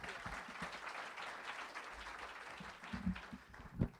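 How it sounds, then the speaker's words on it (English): An audience claps to welcome a speaker at a faith and family event, a steady round of applause that carries on under a few brief voices and scattered louder claps near the end. "Give her a round of applause."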